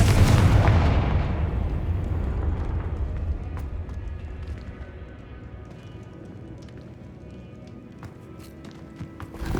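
In the Hogwarts Legacy video game, the Confringo fire-blast spell goes off as a loud, booming explosion right at the start. It fades into a long rumbling decay with scattered crackles afterward.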